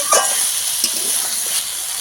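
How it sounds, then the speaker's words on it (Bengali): Fish curry ingredients, river khoira fish with potato and eggplant, are sautéed and stirred in a pan, producing a continuous bright sizzle with a few scraping stir strokes, close and fairly loud. "ভালোভাবে একটু কষিয়ে নেবো ভালোভাবে সব কিছু কষিয়ে নিয়েছি"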